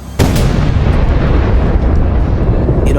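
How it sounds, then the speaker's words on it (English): Loud sharp bang at the start, then a sustained roaring rumble that fills the rest, giving the firing sound effect of a Heng Long Leopard 2A6 1/16 RC battle tank that shoots 6mm BB pellets with hull recoil. "cool hull recoil action and firing sound effect"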